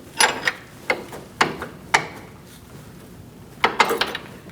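A wrench clicks and cracks against a front lower control arm bolt on a 2016-2019 Chevrolet Cruze, sharp metallic snaps in two clusters separated by a quiet stretch.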